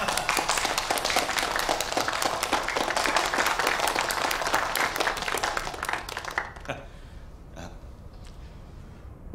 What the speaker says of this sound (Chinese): 让我们用最热烈的掌声欢迎他